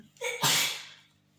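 A single sharp sneeze, preceded by a quick inhaled breath, close and loud, then silence.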